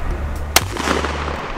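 A single sharp crack from an AR-15 rifle fired outdoors in a backyard, one loud report with a brief echo trailing off, standing alone without voices.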